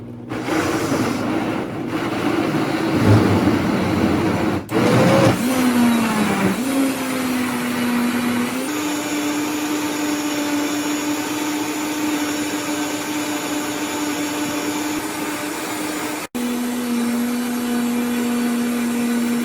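A blender whirs loudly and steadily for a long stretch while blending raw vegan wrap ingredients, its motor pitch shifting as the contents churn, then pausing briefly before running on.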